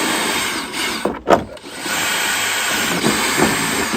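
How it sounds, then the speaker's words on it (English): A steady, loud whirring power drill runs throughout, dipping briefly once near the middle before resuming. "Now for installing these lights, you're going to want to get a drill."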